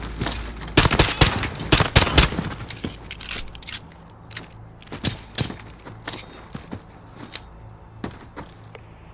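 Gunfire crackles through a video game battle in sharp bursts, loud and dense at first, then thinning into scattered single shots with short gaps between them.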